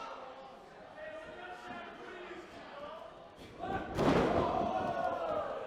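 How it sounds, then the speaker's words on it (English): A wrestler crashes onto the ring mat from a liger bomb slam, a loud sudden thud with crowd noise swelling under ongoing commentary. "Catches him with a liger bomb."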